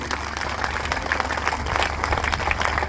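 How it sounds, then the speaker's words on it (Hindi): Applause from an audience at a lecture, a steady, moderately loud patter of many hands clapping together with a low hum underneath throughout. "इस पर हम सभी को ताली बजाना चाहिए।"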